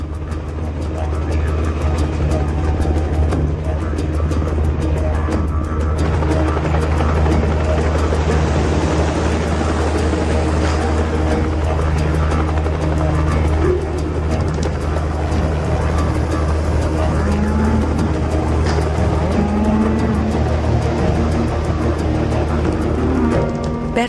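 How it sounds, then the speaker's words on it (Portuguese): A helicopter works over an Australian cattle ranch, pushing the herd along, its rotor and engine making a steady, loud drone that holds throughout amid broad outdoor noise. "Os cowboys utilizam helicóptero para empurrar as vacas."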